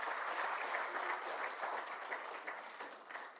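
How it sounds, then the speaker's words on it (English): Conference audience at an aerospace and warfare strategy programme applauding speakers and a session chair, a steady dense wash of many hands clapping, faint and distant, with no talk over it. "let's give a huge round of applause for our speakers and chair"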